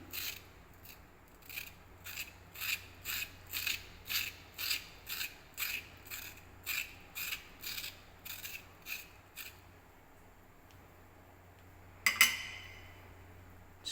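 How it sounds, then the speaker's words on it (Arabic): A serrated corer scores zucchini skin in a row of about fifteen quiet, evenly spaced scraping strokes, close and faint, followed by a sharper clink near the end, with no talk. "بنيجي بالمقوار بالحتة المشرشرة دي ونعمل شكل كده"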